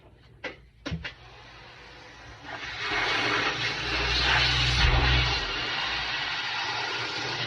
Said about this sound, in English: we're gonna vacuum this hose completely so that there are no clogs in it